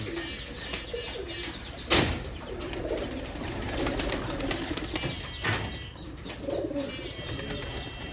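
Racing pigeons coo and murmur in a low, continuous rumble, with a couple of sudden bursts of wing flapping and faint chirps in the background.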